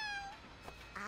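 A cartoon anime cat gives a single drawn-out meow, close and clear, with a brief higher yowl at the end and no talk.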